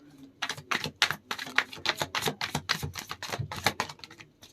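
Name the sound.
tarot cards being shuffled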